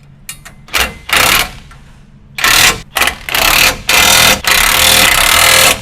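Bolts on a 2017-2022 Ford F-250/F-350 front bumper are tightened with a 3/4 inch socket and wrench, giving loud, close bursts of rapid ratcheting separated by short pauses.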